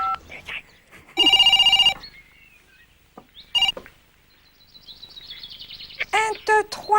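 A telephone rings in a children's TV show: a loud trilling ring burst follows short dialing tones, then another brief ring and chirpy sounds, with quiet gaps between.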